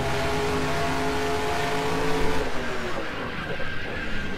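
In the NASCAR Racing 2003 simulation, stock cars racing at Atlanta hold a loud, steady engine drone that gives way midway to a harsh, noisy crash and a spin as the pitch drops away.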